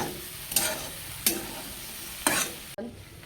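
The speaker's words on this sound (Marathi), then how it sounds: "लालसर व्हायला पाहिजे भेंडी भाजून भाजून" Okra frying in a pan while being stirred, a steady sizzle broken by three or four distinct scraping strokes of a spatula at irregular intervals, close and loud with no speech.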